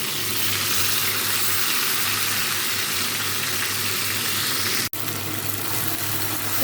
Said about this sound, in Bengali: বেগুনটা ভাজি পরে পটলগুলো রাখবানি